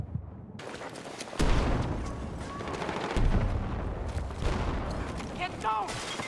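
Battlefield 6 combat with an M2010 ESR sniper rifle and grenades: heavy, booming blasts and rapid gunfire crackle under a busy battlefield din, with players talking over it.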